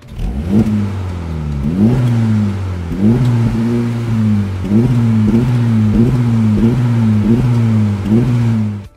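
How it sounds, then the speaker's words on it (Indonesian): A Honda engine with an active exhaust valve revs repeatedly with a deep, rumbling exhaust, rising and falling in several loud bursts close by, no talking. "Plus ada active valve-nya yang bikin suaranya lebih sangar gini di mode tertentu"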